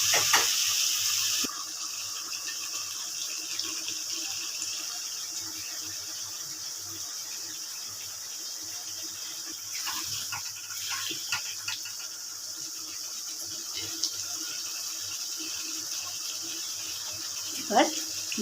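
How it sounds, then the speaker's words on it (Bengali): Warm water pours into a pan of crab curry with a brief louder gush, followed by a steady hissing simmer and a few faint clinks. "আমি এখানে উষ্ণ জল গরম করে রেখেছি, জলটা দিয়ে দিলাম।"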